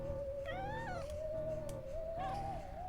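A cat meows twice, a faint rising-and-falling cry and then a shorter one, heard under a steady tonal hum and background music in an indoor room.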